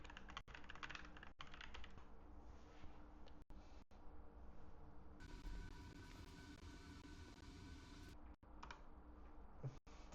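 Steady clatter of typing on a computer keyboard, irregular keystrokes with a few brief pauses, close and moderately loud over a constant background hum, with no speech.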